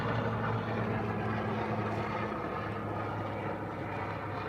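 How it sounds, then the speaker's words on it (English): A steady, droning rotor and engine rumble from a helicopter passing overhead near a harbor on a still day, loud and continuous, with no talking. "Sorry about the noise, helicopter flying overhead."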